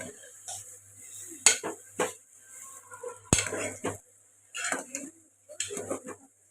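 Amaranth leaf curry with dal being stirred in a pot: intermittent metal scrapes and clanks of a spoon against the vessel, separated by quiet gaps over a low hum.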